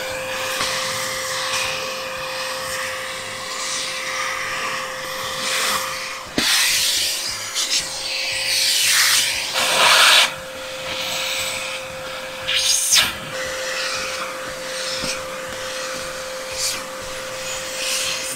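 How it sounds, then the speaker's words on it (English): A vacuum cleaner runs steadily with a loud whining drone, broken by scraping and rubbing bursts as it sucks up debris in a workshop. "It's definitely time for more vacuuming."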